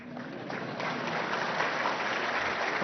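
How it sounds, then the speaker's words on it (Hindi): Steady audience applause in a large hall at a Supreme Court diamond jubilee ceremony, a continuous, moderately loud patter of many hands that holds evenly throughout. "ताली बजा सकते हैं।"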